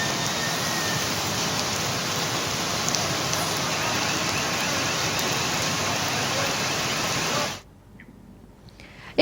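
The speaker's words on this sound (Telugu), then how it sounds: "హైదరాబాద్ నగరంలో సాయంత్రం 7:30 వాన ప్రారంభమైంది" Steady rain pours down in Hyderabad on an evening with thunder and lightning, a loud, dense hiss of drops hitting surfaces that runs unbroken for several seconds before cutting off abruptly.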